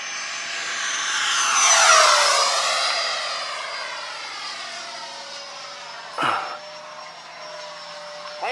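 An airplane passes overhead, its broadband engine roar swelling loud around two seconds, with Doppler-like sweeping tones as it flies by, then a steady fainter drone trailing off; a brief thump near the end.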